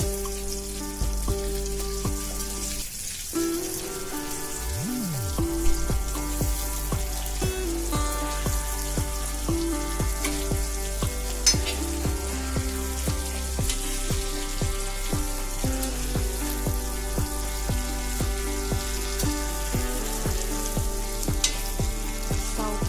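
Prawns (shingale) frying in a pan and being turned over. A steady, close sizzle runs throughout beneath background music, with brief stirring and scraping moments.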